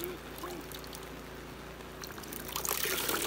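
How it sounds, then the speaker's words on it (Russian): Water poured out on a riverbank during a fishing trip makes a continuous splashing trickle that swells louder toward the end, with people talking over it. "А ты что, воду выливал туда?"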